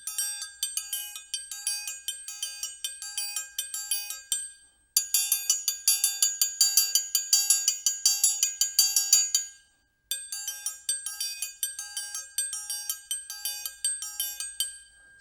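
Brazilian triangle (triangulo) played in a loose Brazilian groove with strokes inside the instrument, a bright ringing metallic pattern in three phrases separated by brief pauses, close and alone.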